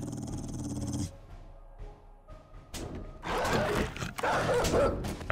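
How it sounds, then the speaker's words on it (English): A dog in the survival video game 7 Days to Die growls and barks in bursts, with quiet gaps between, louder and rougher harsh snarls in the second half. "I do hear a dog"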